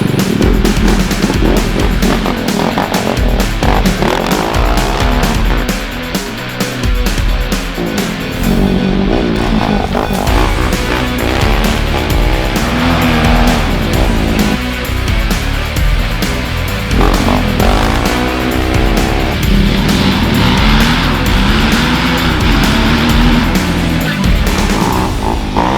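Stark Varg electric dirt bike ridden hard, a continuous loud whining motor that rises and falls with throttle, mixed with wind rush and dirt spray over the full stretch.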